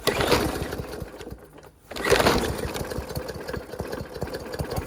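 A small gas lawnmower engine after a pull start, loud and close, chugging steadily with a brief dip before picking back up into an even running idle.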